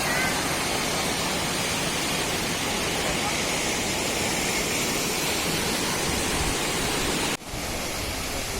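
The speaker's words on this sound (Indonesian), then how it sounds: "Dari atas sini kalian bisa melihat aliran sungai dan bebatuan, dan juga view air terjunnya jadi lebih bagus dan indah ya guys dari sini." Gitgit waterfall in Bali pours in a loud, dense, unbroken roar of falling water close by, with a brief dip near the end.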